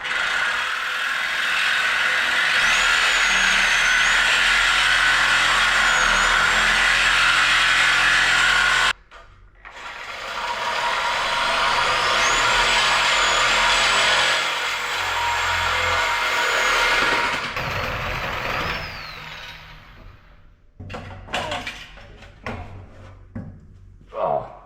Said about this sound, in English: I'm going to run home, get the Sawzall, and then we'll be back to cut this thing off.